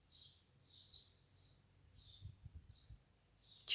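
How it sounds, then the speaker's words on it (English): Birds singing in a garden: about six short, faint chirps repeat at a steady pace over a quiet background, with a few soft low thumps. "Can you hear the birds in my garden?"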